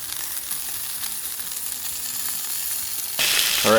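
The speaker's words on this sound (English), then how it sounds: "now these have been searing away for 3 or 4 minutes here" Steaks searing in a cast iron pan give a steady close sizzle that swells louder and brighter near the end, with no voices.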